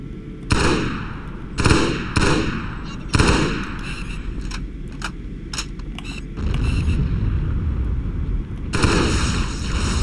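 Turret gunfire in the video game Halo Custom Edition SPV3, heavy booming shots and sharp bursts in several loud clusters, with a sustained rumbling stretch of fire near the end.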